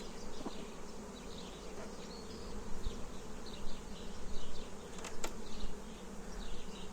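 Honeybees buzzing at an open six-frame hive during an inspection, a dense steady hum close by with rising swells, no talk over it.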